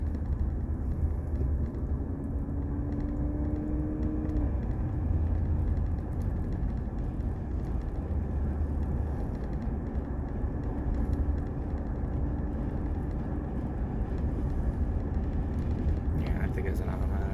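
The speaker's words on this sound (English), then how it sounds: "Oh man, the exhaust is broke. It sounds like crud." A plain automatic VW Golf with a broken exhaust drives somewhere ahead, giving off a steady, coarse low rumble. The rumble drones on without a break at moderate distance and never clearly rises or falls.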